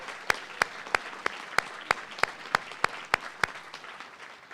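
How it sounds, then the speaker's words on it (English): Applause at a university honors college spring graduation celebration, with a moderate crowd clapping steadily and several loud, regularly spaced claps from someone close by standing out over the softer wash. "I would like to give a round of applause to all of you in the room"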